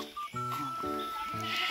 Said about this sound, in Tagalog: Uy, kambing.